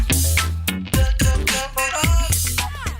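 A short, bright ringtone melody made for the Wiko phone brand, with plucky synth notes, punchy beats and a quick rising figure, played loud and alone for a few seconds.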